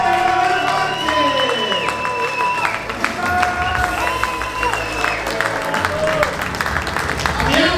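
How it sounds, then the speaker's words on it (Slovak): Wedding guests applaud, whistle and shout together at a reception before the couple's first dance, a loud, steady wall of crowd noise with music and voices mixed in. "Nešetrite pískaním, potleskom a kričanie."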